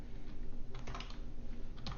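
Quick bursts of typing on a computer keyboard, close and crisp, with a brief pause and a second cluster of keystrokes near the end.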